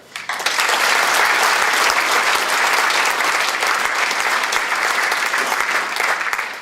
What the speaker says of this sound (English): Let's give another round of applause to all of our alumni award winners.